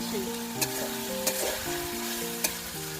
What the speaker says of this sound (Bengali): আদা জিরা রসুন পেঁয়াজ ভালোভাবে ভেজে নেব যাতে কাঁচা গন্ধটা না